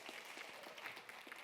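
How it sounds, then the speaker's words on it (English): Audience applause marking a podcast's 50th episode special, a steady soft wash of many hands clapping throughout, fairly faint and distant. "A round of applause for a 50th episode."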